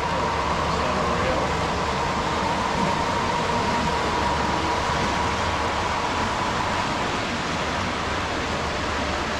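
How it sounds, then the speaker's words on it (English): A steady, loud broadband rumble and hiss, like a train rolling past close by, sustained without letup throughout. "Train."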